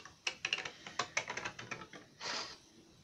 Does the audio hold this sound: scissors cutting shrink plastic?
yes